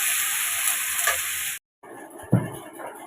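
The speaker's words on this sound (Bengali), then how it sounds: "ভেজে আর কি লবণ আর হলুদ দিয়ে সেটা ভাজা ভাজা করে নেব।" Vegetables fry in a pan with salt and turmeric, giving a steady loud sizzle that cuts out briefly, then resumes with a stirring clatter.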